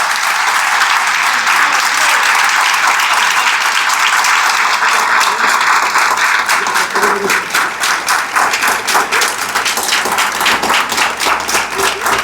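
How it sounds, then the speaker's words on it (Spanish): Warm audience applause at a book presentation event in San Pedro de Macorís, loud sustained clapping from a crowd, turning into more distinct rhythmic claps toward the end. "Muchas gracias, maestro Isidro, por todo su caluroso aplauso"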